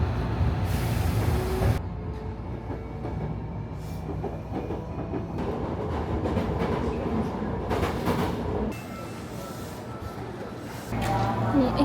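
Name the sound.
train passing through station platform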